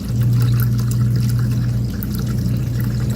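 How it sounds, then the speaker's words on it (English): Steady water pouring from the dispenser of a Whirlpool side-by-side refrigerator through a newly fitted filter, a continuous close, loud stream with no talking. "water flow."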